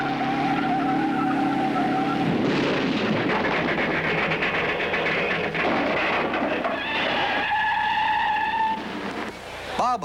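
A 1963 Indy 500 race car spins and skids through turn 1, its engine howling loud and broadband with rising whine tones and tire scrub, continuous for several seconds before fading near the end.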